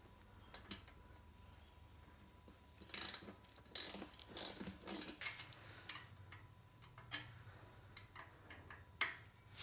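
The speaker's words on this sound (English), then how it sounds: "just grab your socket. Make sure you're taking it off," A socket ratchet loosens a bolt on an Arlen Ness oil pressure gauge install, giving faint, sparse clicks and short ratcheting bursts spread over a quiet background hum, with no voices.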